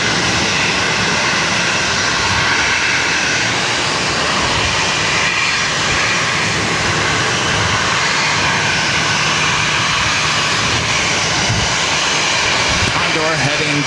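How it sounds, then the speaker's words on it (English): Jet airliner arriving at Boston Logan airport, a steady loud broadband engine roar that fills the whole stretch without a break, with radio chatter and voices running underneath. "This is Alaska 390 coming in from San Diego."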